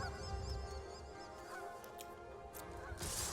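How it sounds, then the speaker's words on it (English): Geese honking in the card video game MTG Arena, repeated nasal calls over a layered ambient background, fairly faint and somewhat distant, ending in a brief burst of noise. "It sounds like there are geese at Ardenvale."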